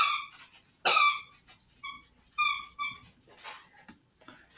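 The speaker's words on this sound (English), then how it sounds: "my dog is playing with his toy" A dog plays with a squeaky toy nearby, giving several sharp, bright squeaks in bursts, one especially loud, with short pauses and faint rustling between them.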